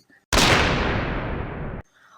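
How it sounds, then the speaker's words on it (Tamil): Massed artillery bombardment at the start of the German spring offensive, heard as one sudden, sustained roaring blast that holds for about a second and a half before cutting off abruptly, loud and close. "ஜெர்மனி ஆயிரக்கணக்கான பீரங்கிகளால் மிக குறுகிய ஆனால் விண்ணை பிளக்கும் தாக்குதலை ஆரம்பித்தது"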